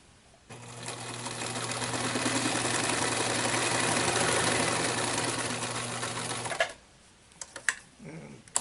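A sewing machine stitches through thick denim on a pouch in one steady, loud run of rapid needle hammering that lasts about six seconds, followed by a few soft clicks and handling noises.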